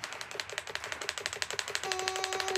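Computer keys hammered in a fast, steady rhythm of sharp clicks while playing an indoor athletics video game, close and loud throughout, with a tone beeping from the game toward the end.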